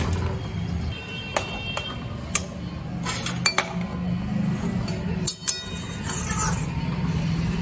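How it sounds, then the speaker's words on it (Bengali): Fried pointed gourd koftas are dropped into a boiling spiced gravy, with a steady low bubbling and sizzle broken by a few sharp clinks of a utensil against the pot. "এবার ভেজে রাখা পটলের কোপ্তাগুলো আমি সব দিয়ে দিলাম"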